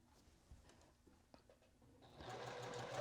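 A sewing machine stitching quilt block pieces: quiet fabric handling first, then the motor starts and runs in a loud, steady, close whir with no talking.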